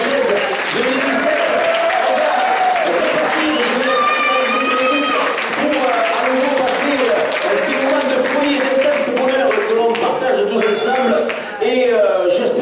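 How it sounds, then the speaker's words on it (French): A crowd applauds at a French sports club's 2017 awards evening, sustained clapping with cheers mixed in, while a voice speaks over it and music or tones rise intermittently. "vous pouvez vous applaudir"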